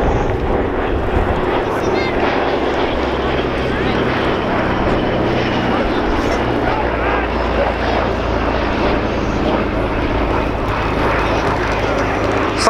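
Piston engines of a Douglas C-47 Dakota, a World War II veteran transport still wearing invasion stripes, drone steadily at the Dunsfold Wings & Wheels airshow, a loud continuous rumble that holds without a break.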